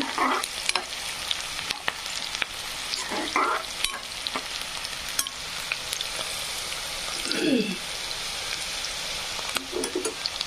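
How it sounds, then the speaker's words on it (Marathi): Onions frying for a sprouted-bean usal gravy give off a steady hiss and sizzle, with scrapes from stirring now and then, close and fairly loud throughout. "कांदा छान फ्राय झाल्यामुळे काय होईल, मस्तपैकी असं भाजीला टेस्ट येते।"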